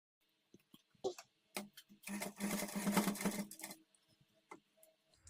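A sewing machine stitches piping along a blouse neckline, with a sustained run of rapid mechanical whirring in the middle, preceded and followed by short isolated clicks and taps, close and fairly quiet.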